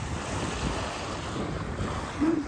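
Small waves lap at the edge of a lake in a light breeze, a soft continuous wash with faint wind rumble, no voices.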